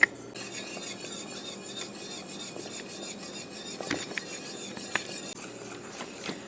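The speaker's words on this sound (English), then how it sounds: "So I'm going to stir this until it comes up to a good bubble" A utensil scrapes and stirs clam chowder in a cooking pot, making continuous close rasping and rubbing with occasional knocks against the pot, and no one talks.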